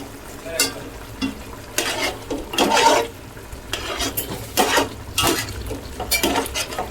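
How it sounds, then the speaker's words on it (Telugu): Chicken for tahari biryani simmers and fries in a pan with onions, a spoon scraping and stirring in irregular bursts over a low bubbling sizzle, close up. "చికెన్ ఉడుకుతా ఉంది"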